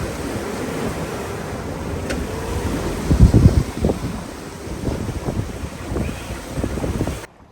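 Wind gusts across a sailboat at sea near Cape Verde, a rushing, buffeting roar against the microphone with irregular thumps of water and hull, loudest in a strong gust midway.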